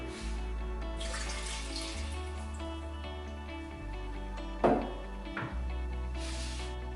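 A glass of water is poured into a pot that already holds olive oil, while octopus is being prepared. The brief splashing pour sits under steady background music.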